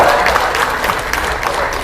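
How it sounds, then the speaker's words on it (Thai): A crowd claps steadily at a buffalo beauty contest in Nakhon Nayok, Thailand, in a dense, continuous burst of applause, with no talking over it. "ขอเสียงปรบมือให้กับนิรนีฟาร์มเขาใหญ่ด้วยครับ"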